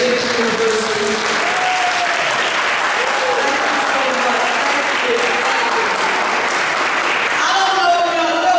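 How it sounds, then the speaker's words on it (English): Loud, steady applause from an audience at a Building Black Wealth Tour event in Philadelphia, filling the whole stretch without a break, with voices and cheers mixed in throughout. "Give my soror a round of applause from the British University."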